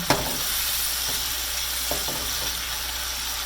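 Garlic fries in hot fat in a pan with a steady, even sizzle, broken by a few faint clicks of stirring, close and with no voices.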